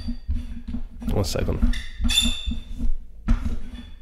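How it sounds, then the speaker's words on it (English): Microphone handled and adjusted at close range, with bumps, rustles and clinking knocks rising over a steady low hum, while a voice speaks briefly. "I'm fixing my microphone."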